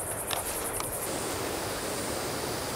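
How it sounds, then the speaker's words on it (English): A constant broadband rush of a distant waterfall on a forest trail at REGUA, Brazil, soft and distant, with a couple of faint high chirps early on. "I'm getting excited. I can hear the waterfall."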